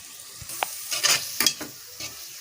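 Spices being stirred in a hot pan for veg pulao with green chillies and red chilli powder, a soft sizzle broken by several short spoon scrapes and taps, quiet and close, with no talking.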